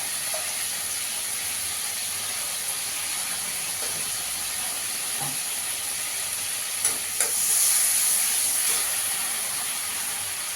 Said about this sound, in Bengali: কালো জিরে ফোড়ন দিয়ে দেবো